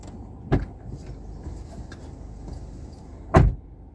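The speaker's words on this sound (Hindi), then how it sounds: "can you just open the door and close it" The door of a diesel Kia Seltos HTK Plus makes two solid thumps about three seconds apart, the first softer as it opens and the second a heavier close, against a quiet background.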